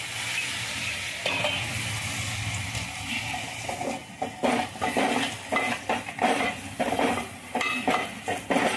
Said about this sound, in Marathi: ही जी डाळ आहे ही आपण याच्यामध्ये आता ओतून घेऊया.